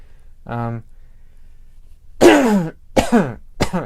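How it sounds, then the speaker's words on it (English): A short throat sound, then a pause followed by three harsh coughs in quick succession, close and loud. "I've been coughing a lot."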